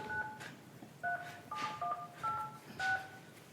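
Telephone keypad tones dialing into a town hall meeting call, a series of distinct two-tone beeps in an uneven rhythm, close and clear over a quiet room hum.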